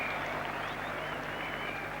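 Large Old Trafford crowd at an England v Australia Test cricket match applauding a boundary, a steady, dense wash of clapping that holds evenly throughout, broad and fairly distant.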